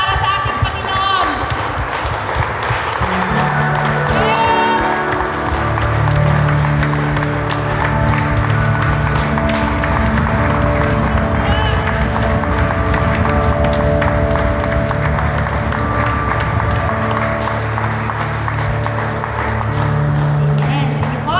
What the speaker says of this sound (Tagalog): isa pa po palakpak para sa ating Panginoon